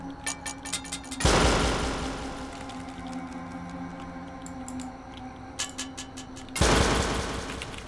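Gunfire in the video game Rust during a raid: two heavy, close bursts of rapid shots a few seconds apart, with scattered lighter ticking shots in between and no talk.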